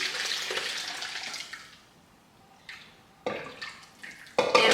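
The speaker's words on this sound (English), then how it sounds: "now I'm straining the last bit of juice" Fresh green juice from a Nama J2 juicer is strained, with the last of it pouring and trickling in short splashy bursts. Quiet gaps fall between the bursts, and a final louder pour comes at the end.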